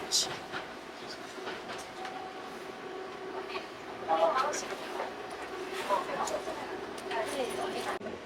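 A sightseeing train departs and runs on rails in Tochigi, Japan, with a quiet, steady rolling rumble and faint clatter, and people chatting softly over it.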